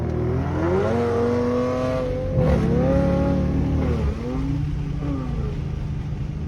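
A Dodge Charger R/T's V6 engine revs up and holds a steady, throaty drone, rising in pitch, dropping briefly, then climbing again, loud and close.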